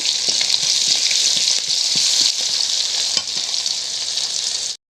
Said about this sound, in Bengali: পেঁয়াজ কুচিগুলো ভালো করে ভাজা ভাজা করে নেব